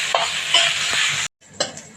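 Onions fry and sizzle in a pan with a steady hiss, broken by a short silence and a few stirring scrapes before the sizzle returns; no one speaks.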